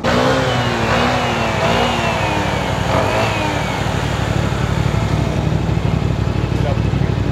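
A WMoto Nexy 180 scooter's small engine revs up and down in repeated rising whines, then settles into a steady idle nearby.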